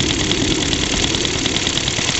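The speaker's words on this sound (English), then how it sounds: "you can't see the little engine chugging away" Small compressed-air piston engine in a steam car, running steadily and close, with a continuous even chugging hum throughout and no talk.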